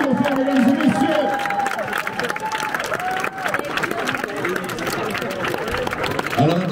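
Crowd at the Verbier St Bernard trail race (X-Plore 27 km) applauding and cheering, steady dense clapping throughout with an amplified announcer's voice over the top.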